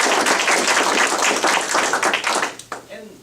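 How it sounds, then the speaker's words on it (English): Audience applause at a school district accreditation review, fairly close and busy clapping that fades out near the end as a voice begins speaking. "So give yourself a round of applause."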